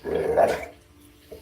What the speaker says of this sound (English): So my apologies if you hear this dog barking in a minute